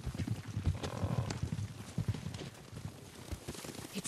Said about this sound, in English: Horses, they're coming for us.